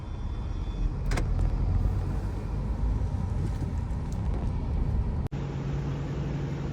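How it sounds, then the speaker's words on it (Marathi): A car's engine rumbles steadily close by, with a brief click or door-like thud partway through and the low hum continuing afterward. "तर मित्रांनो आपली गाडी आलेली आहे"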